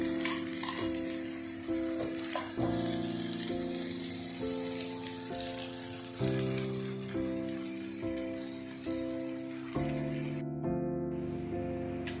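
Egg masala omelette frying in a pan, a steady soft sizzle running throughout beneath louder tuneful background music.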